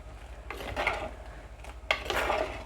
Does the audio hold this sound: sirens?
no